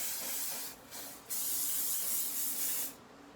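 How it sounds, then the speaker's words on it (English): Close aerosol hiss of hairspray on a ponytail in several bursts, a short spray, a pause, then a longer continuous spray that cuts off. "I'm gonna spray this just to help hold it."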